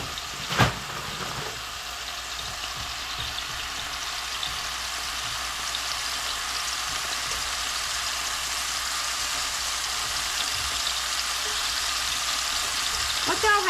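Broccoli stir-frying in a pan for chicken teriyaki, an opening clatter followed by a steady sizzle that builds slightly louder, close by, with a voice speaking at times underneath.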